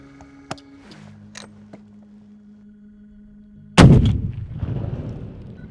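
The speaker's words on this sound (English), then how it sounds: "I'll shoot three." A rifle fires a single loud, sharp shot at target practice before an elk hunt in Colorado, followed by a long rumbling echo, after several seconds of quiet ambient hum and a few faint clicks.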